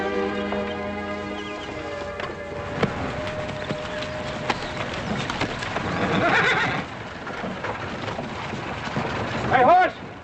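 Horses pulling a wagon in an old Western setting, with a loud whinny and steady hoof clops and rumble, while people talk over the scene.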